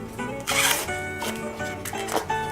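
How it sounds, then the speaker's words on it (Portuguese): An ear of corn being husked by hand for pamonha, the dry husks tearing and rustling in several close, scratchy bursts with no talk. "pode terminar de descascar o milho"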